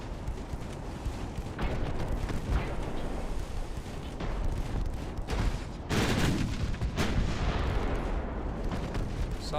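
Warship naval guns firing in the video game Ultimate Admiral Dreadnoughts, a dense continuous rumble of heavy booms and blasts layered over each other, with a louder volley partway through.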